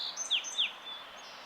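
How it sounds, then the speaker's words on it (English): A song sparrow sings from the far bank of a river in a floodplain forest, two quick descending notes standing out faint and distant against soft background quiet. "In the distance, another song sparrow answers from the far side of the river."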